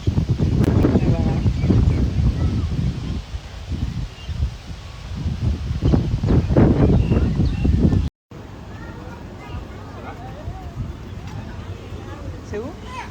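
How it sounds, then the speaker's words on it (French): Strong wind at a beach harbour buffets the microphone in loud, uneven gusts that rise and fall, with a brief cut in the sound and voices talking underneath. "Je vous avoue qu'il y a un vent. Bon, il fait pas froid, mais le vent il est très dérangeant."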